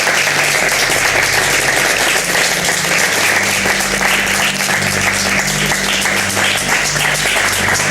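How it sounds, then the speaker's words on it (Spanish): Warm, sustained applause from a studio audience on a Spanish-language talk show, loud and dense throughout with no break, a continuous wash of many hands clapping together, with a low hum running underneath. "te despedimos con este caluroso aplauso"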